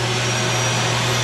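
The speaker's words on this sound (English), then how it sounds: "This one's equipped with a central vacuum and a kickstart." A travel trailer's built-in central vacuum with a kickstart inlet runs as a loud, steady motor whine with a constant hum, heard alone and close.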